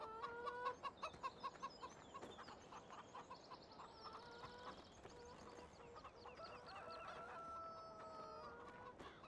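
Chickens cluck in a rapid, rhythmic series in the farm video game The Valley The Old Farm, followed by a rooster-like crow and continued clucking over a steady ambient background.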